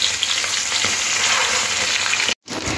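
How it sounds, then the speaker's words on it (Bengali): Pieces of chara fish fry in very hot oil in a wok for a Bengali fish curry, a loud, dense, steady sizzle heard up close that cuts out for a moment just before the end. "তেলটাকে খুব ভালো গরম হয়ে যাওয়ার পরে মাছগুলো তেলের মধ্যে ছেড়ে দিতে হবে"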